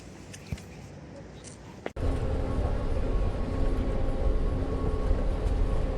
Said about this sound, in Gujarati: અત્યારે પાછા આવ્યા મેટ્રો સ્ટેશન